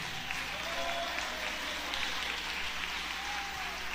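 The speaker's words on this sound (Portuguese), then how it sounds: "Vamos melhorar essas palmas." A church congregation claps hands together, a dense, steady wash of many palms that holds at an even level throughout, a little distant in the room.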